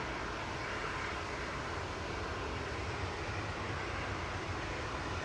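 A TUI Boeing 737 MAX 8 airliner departing Manchester Airport, its jet engines a steady, broad roar close by that holds evenly throughout with no talk over it.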